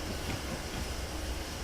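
A train in the Railworks simulator rumbles continuously, a dense steady roar of wheels and engine with no breaks, heard close and alone.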